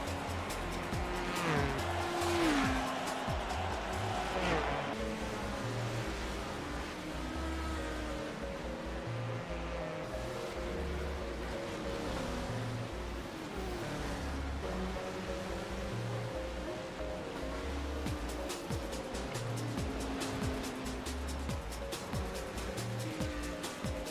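Prototype race cars in the video game Second Life roar past one after another, engines rising and falling in pitch with occasional tire squeal, loud and continuous with no talking.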